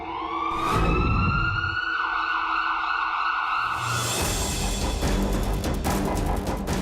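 A private ambulance siren wails in steady rising and falling tones, fairly close and continuous, with traffic noise swelling beneath it toward the end.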